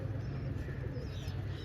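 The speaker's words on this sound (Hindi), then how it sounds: "ये देखें ये जा रहे हैं कबूतर अपने।" Flock of racing pigeons of the 15 Nimber breed flying overhead outdoors, giving a steady low fluttering wash with faint coos over a constant background hum, with no talk.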